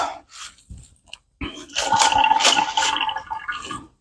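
Hands rinsed under a running tap, a few brief splashes followed by a steady rushing stream with wet, uneven splattering, close by and fairly loud.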